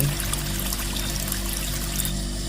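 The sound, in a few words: hot water poured from a bucket into an air cooler, cartoon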